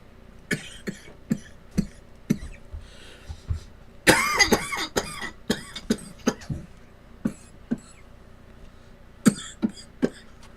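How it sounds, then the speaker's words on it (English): Repeated coughing, a long series of sharp coughs and throat clearing with a dense burst in the middle, over a faint low engine hum. "that was a good cough, not a nasty cough."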